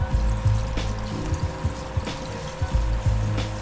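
Cannabis oil pours into a rice cooker in a steady, close trickle over low background hum, with a few soft knocks along the way.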